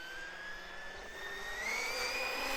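A brushless Traxxas Summit RC truck running on a 4S LiPo accelerates at full throttle. Its motor gives a thin, high electric whine that rises steadily in pitch over a couple of seconds, faint and alone.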